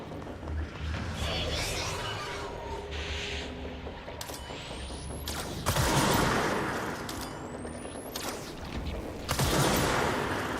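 Gunfire from the video game Control, with sharp shots spaced several seconds apart and louder bursts near the middle and end, over a steady game soundscape and music.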